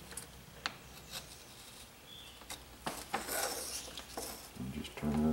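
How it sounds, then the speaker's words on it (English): A hand gouge carving wood for a coal miner's hat, its blade pushed in short scraping cuts and then turned to carve the opposite way, with close rasping strokes and a few small knocks. "And just turn it around and carve the other way."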